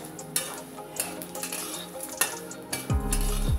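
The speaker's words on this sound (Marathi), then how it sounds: "आता त्याच तेलामध्ये आपले सर्व मसाले आहेत ते सुद्धा भाजून घ्यायचे।" Whole spices for a homemade Maharashtrian black masala are roasted in a little oil in a pan, a close sizzle broken by repeated sharp scraping and clinking as they are tossed, with a brief tonal whine near the end.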